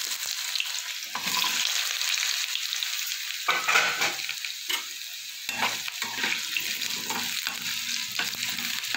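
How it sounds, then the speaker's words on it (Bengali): Potatoes fry in hot oil in a pan for a vegetarian drumstick-flower chorchori, with a steady close sizzle broken by stirring scrapes and clatter throughout, no voices. "আলুটাকে একটু ভালো করে ভেজে নেবো।"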